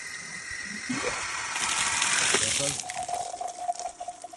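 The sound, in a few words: water filling a filter housing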